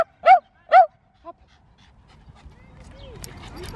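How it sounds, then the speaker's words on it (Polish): Dogs at a veterinary clinic in Warsaw give a few short whimpering yelps close by, two strong cries then a softer one, followed by quieter breathy panting and shuffling noise. "Zobaczcie, dużo piesków tutaj też jest."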